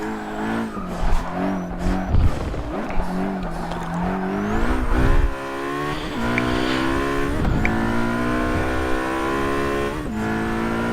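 Car racing in Forza 6 on manual transmission with the clutch, the engine revving up and dropping through repeated gear shifts, with occasional tire squeal, loud and continuous with no talking.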